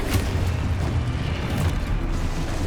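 A Confringo blast spell detonating in Hogwarts Legacy, a dense, loud, sustained rumbling boom with crackling debris filling the whole stretch, no talk over it.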